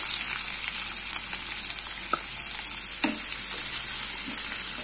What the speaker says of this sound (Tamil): இந்த வெங்காயத்தை கொஞ்சம் நல்லா வதக்கிக்கலாம்